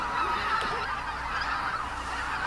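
A flock of migratory geese honks at a winter wetland roost in Gangwon Province, Korea, a dense, continuous chorus of overlapping calls from many birds at moderate distance, with no talk.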